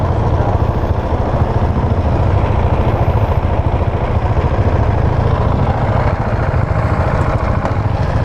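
A 2019 Husqvarna 701 Vitpilen single-cylinder motorcycle engine runs steadily, a close, loud, even thumping drone with a dirt-bike-like beat, holding at a constant pace without any talk over it.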